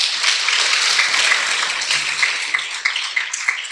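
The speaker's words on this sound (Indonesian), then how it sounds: "Tepuk tangan dulu untuk Diva." A crowd claps steadily for several seconds, a dense, even wash of applause with no voices standing out.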